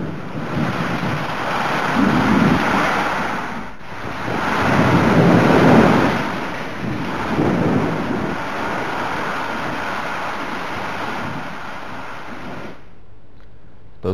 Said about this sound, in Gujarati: મેઘરાજાએ વીજળીના કડાકા સાથે એન્ટ્રી કરી છે